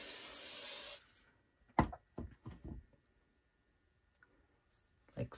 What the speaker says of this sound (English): Hairspray it.